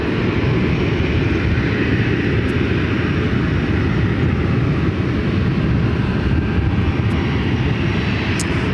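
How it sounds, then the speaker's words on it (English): An Alaska Airlines Boeing 737-900ER, eleven years old, taxiing toward runway 26 right at Ontario airport in California, giving a loud, steady engine roar and rumble that holds constant throughout. "Alaska flight heading to runway 26 right."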